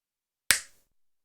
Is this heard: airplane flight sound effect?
no